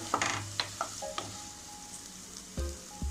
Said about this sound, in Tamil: ஒரு table spoon ginger garlic paste add பண்ணிக்கிறேன். இதோட ரா ஸ்மெல் போகிற வரையும் நல்லா சாட்டே பண்ணிக்கலாம்.